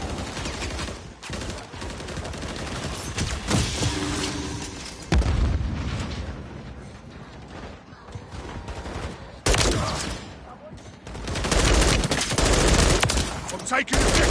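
Heavy gunfire and explosions in a shooter game, with rapid fusillades, sharp booms and loud bursts clustered across the stretch, close and intense.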